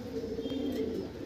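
A loft full of pigeons coos continuously, the soft throaty murmuring close by and steady, with a faint higher chirp briefly rising above it.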